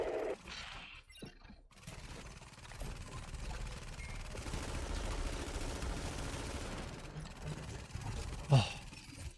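Gunfire in The Division 2, a muffled stretch of rapid shots and clattering bursts in the middle, with a sharp louder crack near the end, fairly quiet overall.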